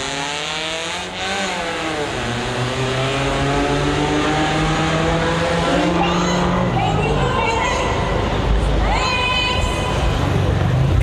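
A truck driving past at a car modification show, its engine revving and shifting through rising and falling tones close by, with a crowd murmuring and talking throughout.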